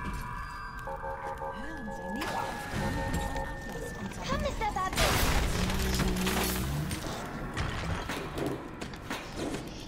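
An explosion in the video game BioShock, heard as a broad, rumbling crash and burst of debris amid game sounds and tones, while a player talks over it.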